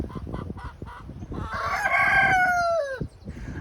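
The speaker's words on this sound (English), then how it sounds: "Oh dear, these chickens, they are raring to come out." Backyard hens cluck in short bursts, then a rooster lets out one long, loud crow close by in a spring cottage garden.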